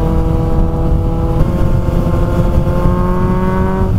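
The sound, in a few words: car accelerating in sixth gear at 100 km/h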